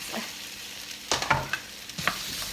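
Diced potatoes fry in about a teaspoon of hot grapeseed oil, giving a quiet sizzle broken by several sharp scraping stirs and clinks near the pan, with no talking.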